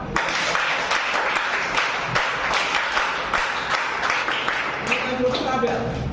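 A sales team at a Vestige demo meeting claps together in a rhythmic pattern of grouped beats, close and fairly loud, with some voices mixed in near the end.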